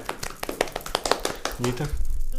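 A short burst of scattered clapping from a few hands, irregular and fairly close, fading as a voice begins talking near the end.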